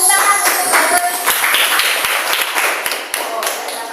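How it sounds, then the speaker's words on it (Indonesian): A classroom group applauds a student during a Pancasila lesson, with dense, close hand clapping and sharp taps that fade slightly toward the end while voices mingle underneath. "tepuk tangan untuk satu"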